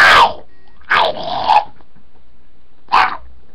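A dog gives short, harsh barks mixed with throaty growls, three separate bursts spaced by quiet pauses, close and loud.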